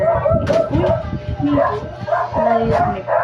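A dog barks repeatedly and lets out howling, whining yips outdoors, the calls rising and falling close by with a voice talking intermittently over them.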